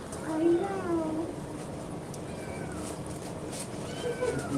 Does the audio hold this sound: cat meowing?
yes